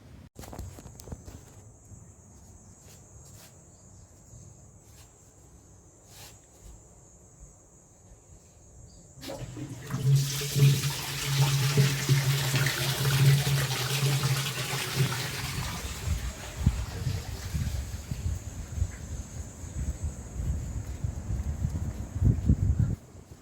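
Water flowing through a wastewater pipe at a manhole inspection point, a quiet trickle that swells into a louder steady rush and splash, with faint footsteps nearby.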